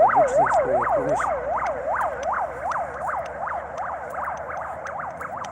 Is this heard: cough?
no